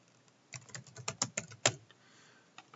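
Typing a project name on a computer keyboard in HYPACK software, a short run of quiet, close key clicks at an uneven pace, followed by a couple of faint stray taps.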